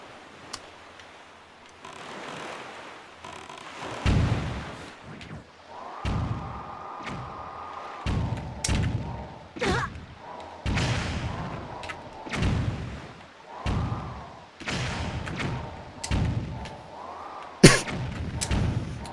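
Booming cannon blasts and thuds fire repeatedly in an irregular rhythm in the video game Zelda: The Wind Waker, mixed with game effects and tonal whooshes, fairly loud throughout.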